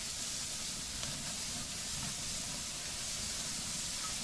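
Meat basted with marinade sizzles on a hot charcoal grill, a steady close hiss and crackle that holds evenly throughout.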